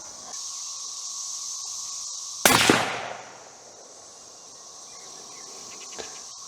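A single loud rifle shot from a CVA Cascade Long Range Hunter while sighting in outdoors: a sharp close crack that rings out briefly, set against a steady background of insect buzz.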